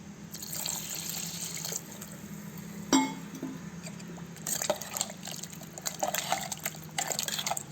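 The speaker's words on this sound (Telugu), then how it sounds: "కొంచెం తిక్కుగా ఉంది కాబట్టి ఇంకా కొద్ది నీళ్ళు పోసుకోవాలండి" Water is poured and trickles into a pot of radish sambar, with faint splashing, drips and a brief clink over a quiet kitchen background.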